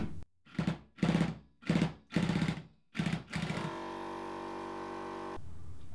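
Air impact wrench hammering at a threadlocked fork bolt on a Suzuki GSX-R, five sharp rattling bursts followed by a steady whirring spin-down as the bolt breaks free, close and loud.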